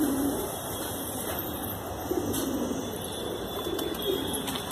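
Desi high flyer pigeons in Dombivali, Mumbai coo in low, soft repeated bursts over a steady background hum, with a faint stir of wings.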